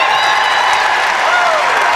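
A Southeast of Saline crowd at a boys basketball game against Hesston gives loud, sustained applause and cheering as a player comes on the court, a dense wash of clapping throughout.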